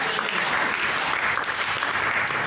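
A church congregation applauds during a French-language sermon, dense and loud sustained clapping from many hands that fills the space evenly from start to finish.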